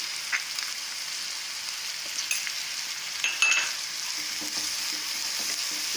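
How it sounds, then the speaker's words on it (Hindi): Vegetables and chillies fry in a pan for a paneer-stuffed kulcha filling, giving a steady close sizzle with a few brief clicks of stirring. "ये सब्जियाँ भून गई हैं।"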